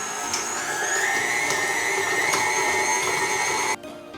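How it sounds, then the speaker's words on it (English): An electric mixer creams butter, sugar and salt for a butter cake, giving a steady high motor whine with a rhythmic beater rattle, loud and close, before cutting off abruptly near the end. "we're just gonna mix this together until the butter and sugar and salt are all incorporated"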